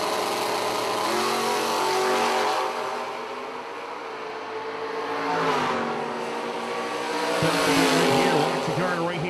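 A drag race car on nitrous at the World Street Nationals finals in Plant City, Florida, with engine tones rising and falling in long revving surges, heard under an announcer's continuous talk.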